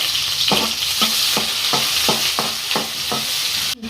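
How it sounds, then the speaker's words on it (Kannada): Finely chopped onion and garlic frying in oil, a loud steady sizzle with a regular rhythm of about ten spatula strokes scraping the pan, close up and with no voices. "ಒಂದು ಉಳ್ಳಾಗಡ್ಡಿ ಐತಮ್ಮನ್ನ ಇದು ಸಣ್ಣಾಗಿ ಇಟ್ಕೊಂಡೇನೆ ಅದನ್ನ ಪೂರ ಎಣ್ಣೆ ಒಳಗ ಫ್ರೈ ಮಾಡ್ಕೊಂಡ್ಬಿಟ್ಟೆ"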